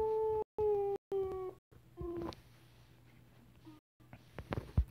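A person imitates a wolf howl with their voice: a few sustained, tonal howling calls with short breaks, close and fairly loud, followed by quieter rustling and knocks.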